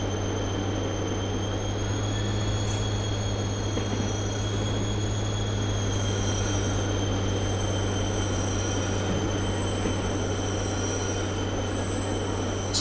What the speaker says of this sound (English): Some good metal on metal sounds.